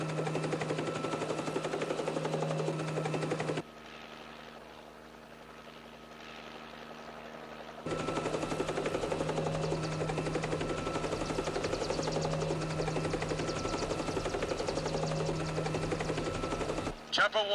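Police helicopter in flight, its steady rotor and engine drone heard loud and close, cutting out for a few seconds before returning at full strength.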